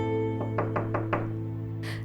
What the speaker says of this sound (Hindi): देखा कैसे खटखटा रहा है।